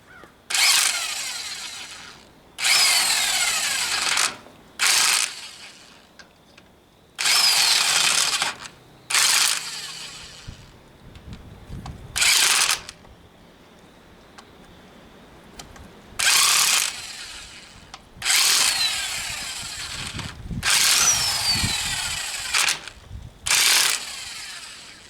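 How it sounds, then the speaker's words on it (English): An impact wrench works on the PTO shaft of a Ford 2N/9N tractor in repeated loud bursts of buzzing hammering, each lasting a second or two, with quiet pauses and faint clinks between them. "Should we try a little gentle touch with the impact wrench?"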